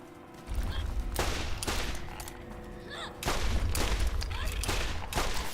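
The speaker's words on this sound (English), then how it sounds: "Shoot him twice" Gunshots in the video game Borderlands, several loud sharp reports spaced a second or so apart over a low rumbling game backdrop.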